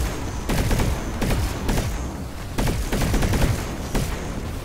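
Gunfire in Planetside 2 sounds as a steady fusillade of overlapping sharp shots in uneven bursts, loud and close, with no talk.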